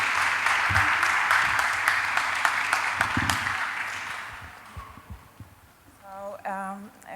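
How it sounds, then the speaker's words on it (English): Audience applause greets a speaker taking the stage at an opening-ceremony panel, a steady broadband clapping that fades over several seconds before a voice begins near the end. "please give her a round of applause"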